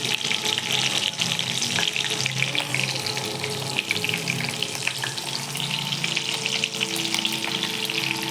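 Bangude mackerel fish frying in a pan, a dense continuous sizzle and crackle of hot oil, close and steady throughout with no voices.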